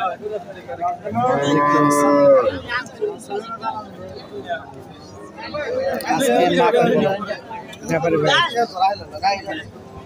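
A Holstein Friesian bull moos loudly and near, in a long drawn-out call followed by more lowing, at a busy cattle market with crowd chatter around it.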